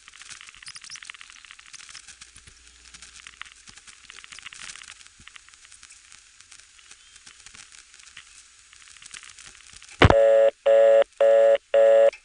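Telephone dialing tones on an old GTE/Leich CXP-5 exchange line follow a long stretch of faint crackling crosstalk: four loud, evenly spaced tone bursts sound in quick succession.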